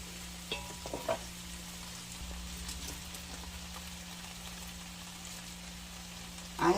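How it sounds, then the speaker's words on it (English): Cabbage and greens frying in a pan for Southern-style cabbage with turkey sausage and veggies, a soft continuous sizzle with a few faint scraping stirs, quiet and close, no talk. "So I'm going to have to try to stir the white ones up on top."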